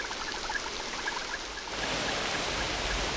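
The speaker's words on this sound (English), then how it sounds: "nowhere else in the world does it rain with such fury as in the Amazon" Heavy rain falls in the Amazon rainforest, a dense hiss of drops that thickens and grows louder partway through, steady and close with no voices.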